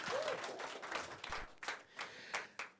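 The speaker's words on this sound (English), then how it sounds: "Clap for yourself." A small crowd at a manifesto launch claps in scattered bursts, several separate sharp claps and short flurries at moderate volume with a faint murmur in between.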